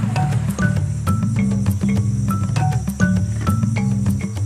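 Jungle crickets chirp in quick repeated bursts in Gabon, a steady pulsing insect chorus with no voices.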